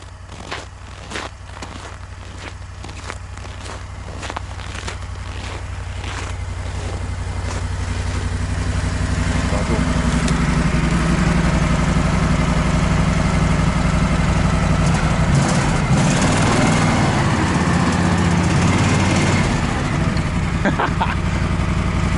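A Buran snowmobile engine runs steadily outdoors in a winter forest, a low droning idle that grows louder and fuller midway, with faint rustling and scattered clicks early on.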